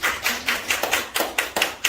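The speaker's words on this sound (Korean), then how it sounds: "박수 한번 쳐야 됩니다." Steady clapping from a small audience at a real estate auction lecture, about nine crisp, evenly spaced claps close by, with no talking.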